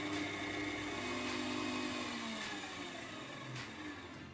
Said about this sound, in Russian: Теперь отдельно в чашу миксера выливаем желтки, насыпаем 70 грамм сахара и взбиваем их в пышную белую массу.